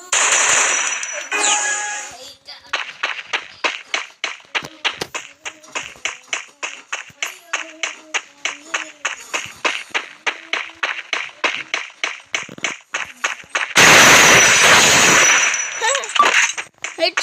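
Gunfire in the mobile battle game Free Fire, heard as a long run of rapid, evenly spaced sharp shots, loud and close, with denser bursts at the start and a noisy blast near the end.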